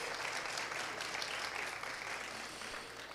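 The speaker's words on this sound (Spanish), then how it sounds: "Un aplauso para ella, por favor." An audience applauds a guest at an evening event honoring a dance conservatory director, a dense, continuous clapping that stays loud and even throughout before easing slightly at the end.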